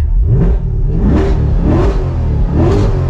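A 2022 Chevrolet C8 Corvette convertible's engine is revved in repeated quick blips, each rising then dropping back, loud and close with no talking.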